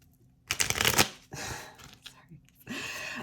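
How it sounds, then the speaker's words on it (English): Tarot cards being shuffled in three quick bursts of riffling and sliding, close and crisp, with short quiet pauses between. "My shuffles apparently are very powerful."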